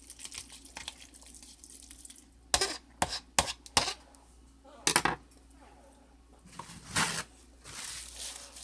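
Egg salad is stirred in a bowl, giving irregular bursts of scraping and tapping from a utensil against the bowl between quieter pauses, close by, with no talk.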